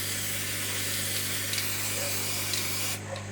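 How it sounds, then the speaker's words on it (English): A steady hiss of an aerosol can spraying molybdenum disulfide for about three seconds over a low background hum, then it stops. "next to that we've got our molybdenum disulfide spray"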